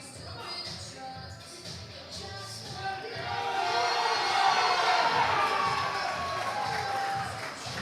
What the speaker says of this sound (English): He is getting amped up, and the crowd is getting amped with him